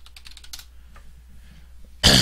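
Quick, close keystrokes clatter on a computer keyboard for a moment, then quiet, ending in a sudden loud burst of noise.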